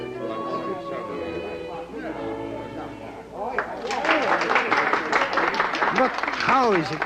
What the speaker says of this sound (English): The storm of applause is not abated.